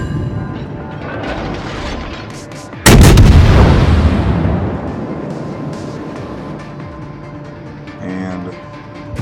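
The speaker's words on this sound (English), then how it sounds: "So I'm firing at the Otago." Warship guns firing in World of Warships, with a sudden loud booming salvo that rolls off into a long fading rumble over a steady background hum, followed by a fainter mechanical rattle near the end.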